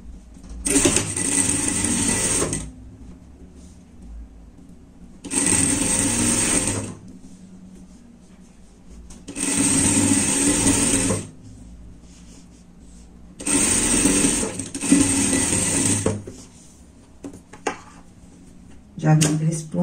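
A sewing machine runs a safety seam on a lined pet jacket in four sustained bursts of one to two seconds, separated by quiet pauses, with a steady whirring at close range.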